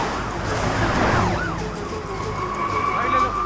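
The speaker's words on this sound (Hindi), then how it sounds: "पुलिस की गाड़ी आ रही है, जल्दी।" A police car siren wails and sweeps up and down as it comes closer, loud and continuous over passing road traffic, with brief voices underneath.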